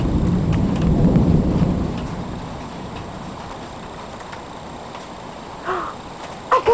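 Thunderstorm in Michigan, with a deep rolling rumble of thunder early on giving way to a steady wash of rain; a few brief sharper noises come near the end.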